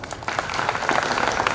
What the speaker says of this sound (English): in the midst of our thunderous applause